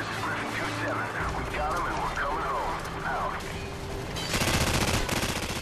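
Call of Duty 4 battle noise with sniper fire, where a busy mix of sound effects and voices gives way near the end to a loud stretch of rapid, repeated gunshots.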